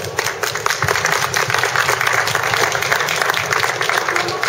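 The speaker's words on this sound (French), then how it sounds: "on peut encore les applaudir très fort" Dense, sustained applause from a symposium audience at Laval Virtual 2010, steady and loud for several seconds without pause.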